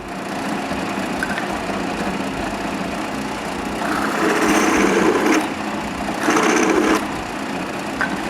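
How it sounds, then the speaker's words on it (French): A drill bores screw holes in aluminium pieces for a mitre saw cabinet, then a larger bit deburrs them: a steady close whine with two louder bursts of cutting partway through. "je peux percer les trous des vis. Avec une plus grosse mèche, je nettoie les bavures de derrière"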